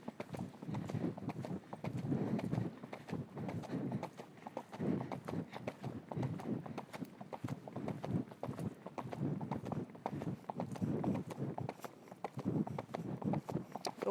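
Ridden horse cantering on a left lead, hooves beating in a rolling three-beat rhythm that repeats steadily and close by for the full stretch, with a rider speaking now and then.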